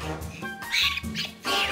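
An eagle gives a series of harsh, piercing squawks, about three loud close cries in quick succession with brief gaps between.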